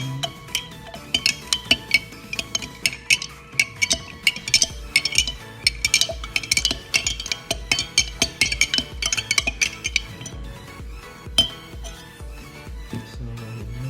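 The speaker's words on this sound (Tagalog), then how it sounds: "i-mix na natin para mag-dissolve yung powder" A spoon clinks rapidly against a glass while stirring organic barley powder to dissolve it, an irregular run of bright taps close by that thins out toward the end.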